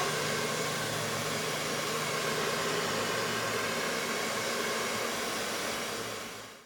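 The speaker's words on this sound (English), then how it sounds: "I needed to use the hair dryer before applying a second coat" Hair dryer blowing on wet paint, a steady loud whooshing motor hum that runs unbroken and close, then begins to fade at the very end.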